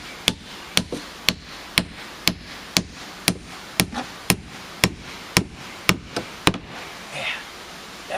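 A hammer drives nails into wood while a shed threshold is being replaced: about fourteen sharp, evenly spaced knocks ring out close by over faint background noise, with no talking.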